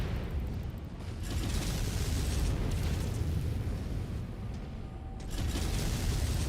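Missiles launch and explode in MechWarrior 5, a dense sustained roar of rumbling blasts and mechanical clatter that swells, dips briefly and surges again, with no talking.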